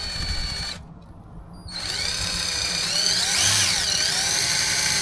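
Power drill spins up to deburr a freshly drilled hole in sheet metal, a steady whirring motor whine that cuts out briefly, then rises again and holds, loud and close, with no talk.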